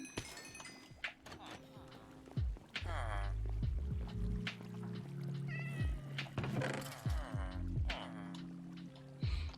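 Several cat meows from the video game Minecraft ring out in quick succession, rising and falling, some overlapping and fairly loud, with a few short clicks between them.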